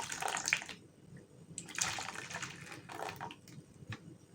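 Pepsi, about a quarter cup, is poured into a homemade creamy soap mixture for cleaning burnt aluminium or stainless pots. It fizzes and hisses in several soft, close bursts with short quiet gaps between them.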